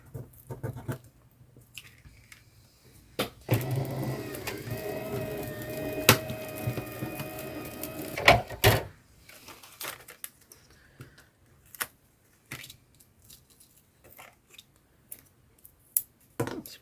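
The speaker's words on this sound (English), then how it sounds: "Let's just run it through the die machine." A die cutting machine feeds glitter-covered Christmas card through with a grinding, rolling mechanical run of a few seconds, then scattered clicks and handling noises of card and plates, close by and without speech.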